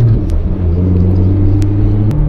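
A 2015 C7 Z51 Corvette engine rumbles steadily while driving through a park, a loud, close, low drone with a slight shift in pitch near the end.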